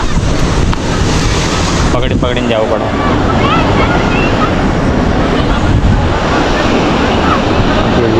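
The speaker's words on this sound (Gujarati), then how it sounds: "તમે મોજા કેટલા મસ્ત આવે છે જો" Sea waves break loudly and continuously on the shore at Dwarka, a dense roaring wash mixed with heavy wind buffeting, while a person speaks briefly over it.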